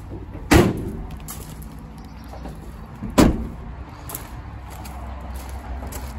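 Two sharp thuds about three seconds apart as the sliding door of a Vauxhall Vivaro electric van bangs shut, over a low steady background rumble.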